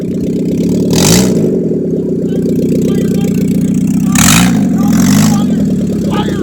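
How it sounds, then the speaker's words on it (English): A car with a welded differential does a burnout, its engine a loud, steady drone with two rising-and-falling rev swells and short bursts of shouting or cheering over it. "That's how you do a burnout in Canada, folks."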